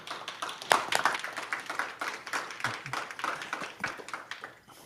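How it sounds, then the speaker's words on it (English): Audience applause for panelists after an environmental justice panel, a scattered but lively clapping from a modest crowd with uneven rhythm that gradually thins out. "Can we give them a round of applause?"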